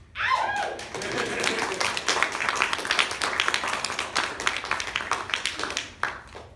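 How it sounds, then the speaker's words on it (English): A theatre audience claps after a stage performance of Measure for Measure, a ragged, moderately loud run of individual hand claps that builds quickly and carries on steadily with distinct sharp hits. "Decidedly, applause needs to be given to these ladies."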